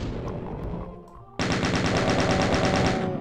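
Chaingun in the video game Ultimate Doom fires a loud, rapid, evenly spaced burst of shots that starts abruptly after a quieter stretch of game sound and runs without pause to the end.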